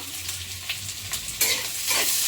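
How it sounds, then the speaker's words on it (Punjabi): Garlic and chopped onion frying in hot oil over a high flame for street-style veg noodles, a soft continuous sizzle with scraping stir strokes that grow louder toward the end, no talking. "ਤੇਲ ਹੋ ਗਿਆ ਗਰਮ ਵਿੱਚ ਲਸਣ ਪਾਤਾ ਸੀਗਾ ਤੇ ਨਾਲ ਹੀ ਪਾ ਦਵਾਂਗੇ ਪਿਆਜ਼ ਤੇ ਪਿਆਜ਼ ਨੂੰ ਥੋੜਾ ਭੁੰਨਾਂਗੇ"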